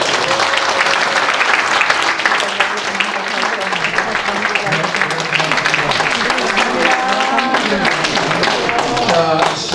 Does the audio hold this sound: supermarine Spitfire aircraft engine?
no